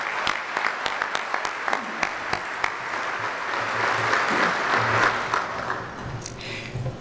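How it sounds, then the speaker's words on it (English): Audience applause for the sponsors at a school educational foundation community breakfast, steady clapping from a crowd that swells and holds, with a low voice or murmur underneath. "Please join me in one more round of applause for all of our wonderful sponsors."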